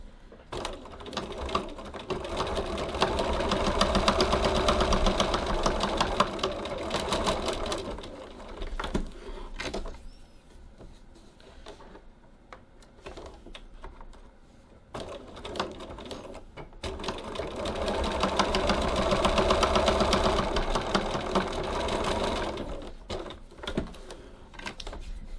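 A sewing machine runs in two long, steady bursts of rapid stitching on bag strap tabs and straps, with a quieter pause between them and no talking.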